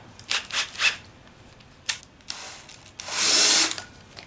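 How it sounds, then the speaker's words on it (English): A power drill boring small 1/16 inch holes in a MiniMiner frame whirs in several short bursts, three quick ones then a couple of brief stabs, ending with a longer, louder high-pitched run. "Next, drill our 16th inch holes."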